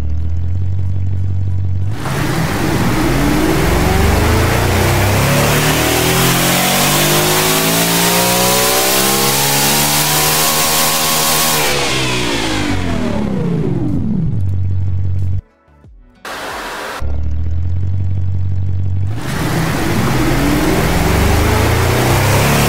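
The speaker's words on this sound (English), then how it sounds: "let's go over to the dyno and run this thing" A car engine in the Automation car-tycoon game, rated at 1298 horsepower per cylinder, revs hard on a dyno in loud sweeping pulls that climb and fall, with a brief cut before the roar resumes.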